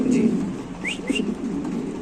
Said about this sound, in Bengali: এখানে আছে একটা সাদা মুন্ডি আর নর কবুতর